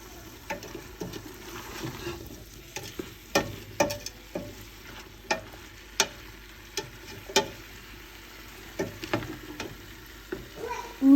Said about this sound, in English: And you just sort of mix it all together.